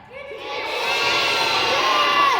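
A crowd of school children shouting an answer together in an indoor assembly, many voices rising into one loud, sustained cheer-like yell that swells and holds.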